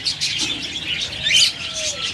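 Pet lovebirds and java sparrows chirp close by, with short high tweets and a few sharper calls in a brief, lively burst.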